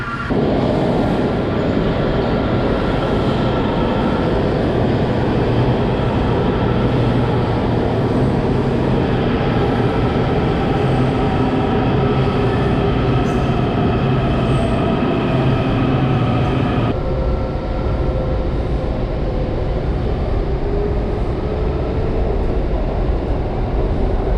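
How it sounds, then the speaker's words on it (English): A metro subway train arriving at a station, a loud, steady rumble and roar of wheels and motors that fills the whole stretch, with a slight change in tone partway through as it slows. "But here's the metro now."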